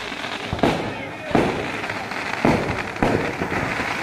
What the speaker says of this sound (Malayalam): മൊത്തം ഈ വീഥികൾ മുഴുവനും പടക്കത്തിൻ്റെ സൗണ്ടുകൾ മാത്രം